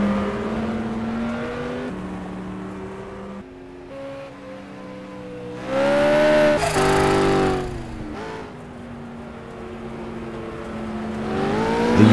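A Lamborghini Huracan and a BMW M5 race around a track, their engines droning with steady, shifting revs that swell into a louder, closer burst midway before settling back to a sustained hum.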